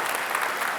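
Dense applause from a studio audience at a televised Jakarta gubernatorial debate, a brief, even burst of many hands clapping with no voices over it.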